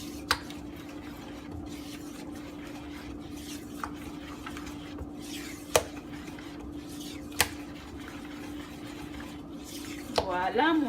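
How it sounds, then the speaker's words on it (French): A millet and yogurt dessert mixture being stirred in a bowl, with soft scraping and occasional sharp clinks of the utensil against the bowl over a steady background hum, plus a brief louder clatter at the end. "Et on continue de mélanger."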